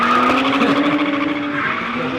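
Two drift cars in a team run slide together, tires skidding and squealing loudly with sustained high screeches over roaring engines, close and continuous.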